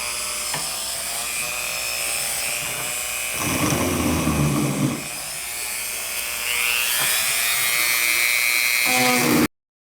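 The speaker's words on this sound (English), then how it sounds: "Now I'm going to try to sand this out of this groove right here with the Dremel with this tip." A Dremel rotary tool at slow speed whines steadily while sanding Bondo out of a groove, with a rougher grinding burst midway as the bit bites and then a rising pitch near the end.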